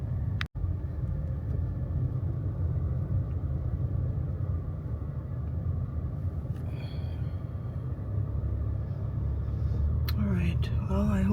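A car driving along a quiet back road in Anguilla, with a steady low engine rumble and road noise throughout, plus a few faint voice-like sounds near the end.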